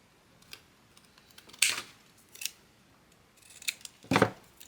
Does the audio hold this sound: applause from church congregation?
no